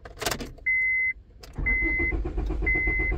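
A Honda Civic that cranks but will not start: sharp clicks and a brief engine cranking whir, then a steady cranking drone with repeated warning-tone beeps, close and fairly loud.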